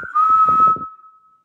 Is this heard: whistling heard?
yes